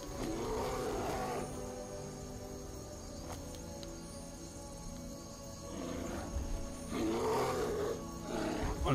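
A bear in the video game Skyrim roars in low growling bursts near the start and again toward the end, with a quieter ambient game backdrop between them.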